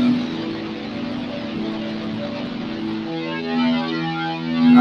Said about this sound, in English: Is that distortion ugly?